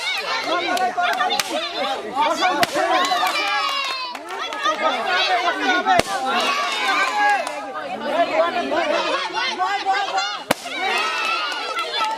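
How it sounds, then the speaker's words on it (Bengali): Balloons pop in a village game, several sharp, scattered bangs cutting through loud, constant crowd chatter and shouting voices close by. "26 সেকেন্ডের মধ্যে সবগুলো বেলুন ফুটাতে পেরেছে"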